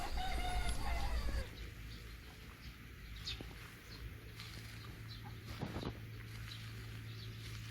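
Chickens on a farm in Goyang, part of a circular livestock and crop farming operation, with a rooster-like call and clucking loudest at the start, then fainter fowl sounds over a steady background hum.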